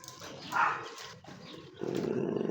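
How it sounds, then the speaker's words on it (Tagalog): A dog barks repeatedly on a gamefowl farm, several rough barks at mid distance followed by a lower growling rumble, with no other sounds over them. "Kahol ng kahol."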